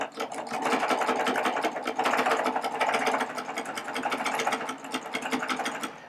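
A Baby Lock Triumph serger stitches ribbon with black serger thread, a loud, rapid mechanical whir that runs continuously in close bursts, speeding and easing slightly.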